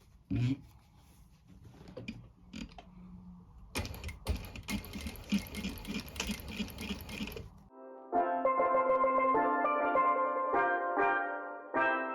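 A sewing machine stitches around a welt pocket in short bursts. There are a few quiet taps first, then a rapid buzzing run of several seconds, and after it a steadier, higher-pitched whir that carries on to the end.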